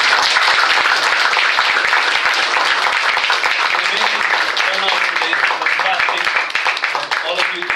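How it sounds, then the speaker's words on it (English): An audience claps in steady, dense applause that stays loud for several seconds at a talk event, tapering slightly near the end. "I'd like all of you to give him a round of applause."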